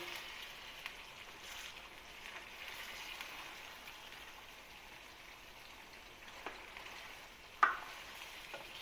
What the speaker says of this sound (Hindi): अभी हम इसको ऑयल में भूनेंगे और भी